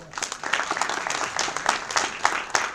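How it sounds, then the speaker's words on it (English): Brief applause from an audience at the inauguration of a cyber security faculty development programme, with uneven individual claps standing out against a softer bed of clapping. "please give him a big applause"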